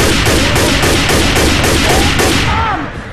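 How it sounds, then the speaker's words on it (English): Rapid automatic gunfire in Left 4 Dead 2 on the Dark Carnival map during a 4v4 versus match: loud, evenly spaced bursts of shots that run continuously, then thin out and fade near the end. "Watch where you're shooting."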